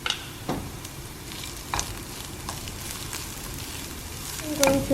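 Garlic frying with browned onions in a pan: a steady sizzle with intermittent stirring scrapes and clicks, close and moderately loud, building to a louder burst at the end.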